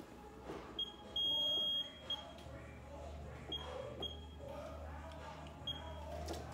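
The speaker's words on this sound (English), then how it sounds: "I gotta start my timer." Electronic timer beeps for a home kickboxing and full-body workout, a few short high tones and one longer sustained beep spread through the clip, moderately loud over a low steady room hum.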